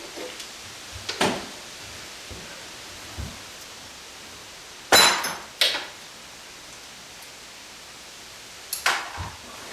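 Metallic taps and clanks while bolts are pushed out of the firewall of a Rolls-Royce Phantom III during restoration, with about half a dozen brief knocks in small clusters against a quiet hiss.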